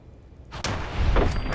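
A gunshot in the Fallout 4 video game, a single loud blast with a sharp onset and a rumbling tail, alone and up close.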